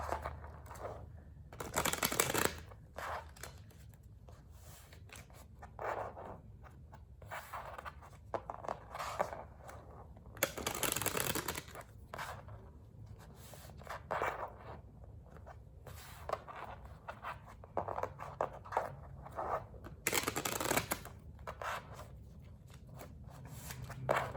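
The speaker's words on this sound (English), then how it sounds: "Let's shuffle these cards." Tarot cards being shuffled in a quiet room, repeated riffling bursts and soft papery slides coming in irregular handfuls, close and fairly quiet, with no talking.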